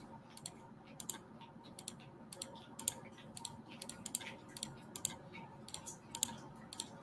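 Faint, quick clicks from a computer mouse during video editing in Shotcut, coming in irregular bursts and single taps against a quiet room hum.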